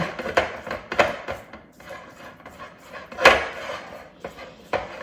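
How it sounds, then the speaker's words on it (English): A silicone spatula scrapes and taps around a mixing bowl while cake ball truffle batter made from Little Debbie snack cakes is pulled down from the sides, a series of soft irregular scrapes and knocks with one sharper clatter. "Just using my silicone spatula here to pull everything down from the sides."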